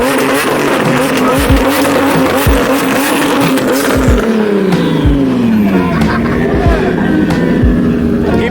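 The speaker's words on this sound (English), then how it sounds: "This dude's S2000 sounds so good. It's got a supercharger and it sounds like a turbo." A loud supercharged Honda S2000 engine revs and roars nearby, its pitch sweeping down and up again with sharp pops, while people shout over it.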